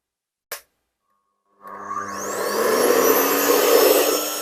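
A Shernbao Cyclone SHD 1800 cat grooming blower clicks on and spins up at minimum power into a loud, steady rushing whine with a rising motor tone, close by and without talk.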